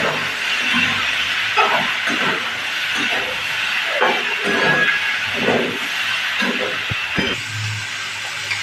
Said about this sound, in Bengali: এবার মাছটা আলুর সাথে ভালো করে ভেজে নেব